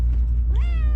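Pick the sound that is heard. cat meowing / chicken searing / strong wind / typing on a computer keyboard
cat meowing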